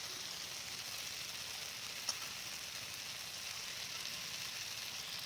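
An egg mixture is added to frying spice masala in a pan, giving a steady, even sizzle with a single small pop partway through and no talking.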